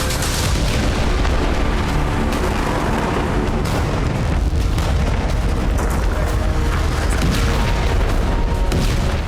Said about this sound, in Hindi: अब बस इजराइल एक एक करके उसके तमाम कमांड सेंटर को उड़ा रहा है